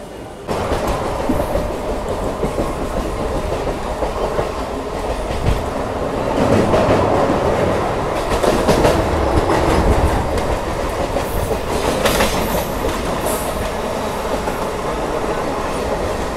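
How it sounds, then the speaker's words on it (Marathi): A Sealdah–Bongaon local train on the Eastern Railway near the India–Bangladesh border runs steadily, with loud continuous rumble and rhythmic clickety-clack of wheels on track heard from inside the carriage. "आपण बघताय सियालदा बोनगाव लोकल"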